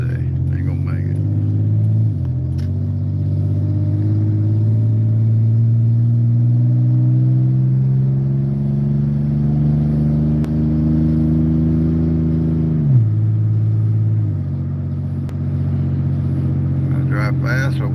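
A car engine hums steadily while driving fast on a cold day, a loud sustained rumble with pitch rising and falling as it shifts and speeds up, with a person talking over it.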